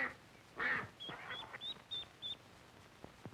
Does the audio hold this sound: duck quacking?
yes